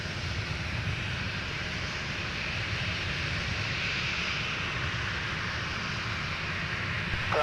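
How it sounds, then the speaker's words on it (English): A Delta airliner on its flight from Mexico City touches down at Minneapolis–Saint Paul airport, a steady distant roar of jet engines and rushing air that holds evenly throughout with no voices. "I think this is flight 605 now touching down"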